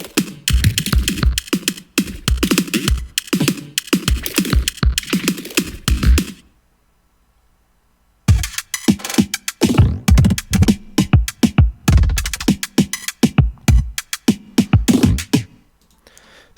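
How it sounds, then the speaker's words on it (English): Glitchy drum loop built from clean drum samples processed with flanger and delay, dense stuttering hits and crackly bursts, a two-second gap of silence midway before the chopped rhythm resumes, loud and up close. "how to make glitchy drum loops that sound kind of like"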